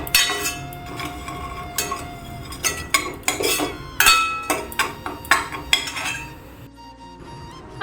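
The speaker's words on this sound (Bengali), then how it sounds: "সুজিটা না একটু লাল লাল করে ভেজে নিতে হবে" Semolina (suji) being dry-fried and stirred in a pan until reddish, with repeated sharp metallic scrapes and clinks of a spoon against the pan over a soft background, ending in a quieter stretch.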